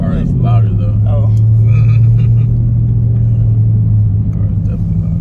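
A Dodge Challenger, Hellcat or widebody Scat Pack, holds a steady low engine rumble heard from inside the cabin, a constant loud drone with people chatting over it.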